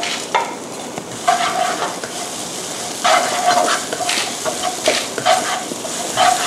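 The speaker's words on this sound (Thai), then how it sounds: "ผัดให้พริกกระเทียมเริ่มหอมนะคะ" Chopped chili and garlic stir-fried in a hot wok of vegetable oil, a steady sizzle broken by repeated scraping stirs of the spatula, close and fairly loud, with no talking.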